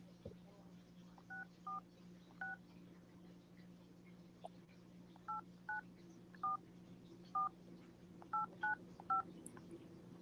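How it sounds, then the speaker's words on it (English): DTMF tones of a phone number being dialed on a cell phone: about a dozen short, clear beeps in irregular bursts over a low steady hum, fairly faint. "Let's get Cheryl on the phone."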